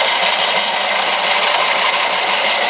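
Knife shop grinding machine used for making ulus running continuously, a loud, steady, close-up whirring hiss with no talking, stopping right at the end.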